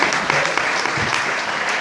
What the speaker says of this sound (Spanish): El aplauso para la NASA.